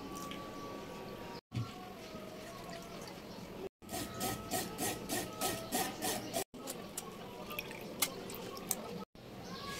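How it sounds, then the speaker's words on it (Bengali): Mustard and poppy seed paste strained by hand for a mustard hilsa recipe, giving a steady scraping, rubbing rasp with faint liquid drips, broken by a few short silent gaps. "সরিষার পেস্টটা আমার ছেঁকে নেওয়া হয়ে গেল"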